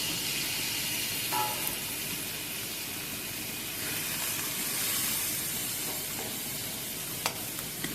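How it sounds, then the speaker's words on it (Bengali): Fish fat frying in a little oil in a pan gives a steady, close crackling sizzle with soft stirring scrapes, continuous for the whole stretch with no voices. "এবার কিন্তু সামান্য তেলের সাথেই এই তেলটাকে ফ্রাই করে নিচ্ছি"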